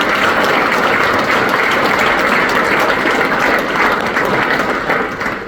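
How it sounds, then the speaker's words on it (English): A crowd at a political speech applauds a former Queensland senator, a loud, dense and continuous roar of clapping that stays full for the whole stretch and eases slightly at the end. "you should give him a round of applause"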